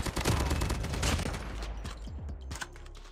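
Bursts of gunfire in the battle royale mode of the mobile game Call of Duty: Mobile, with rapid overlapping shots fading into scattered individual cracks toward the end, loud and without speech.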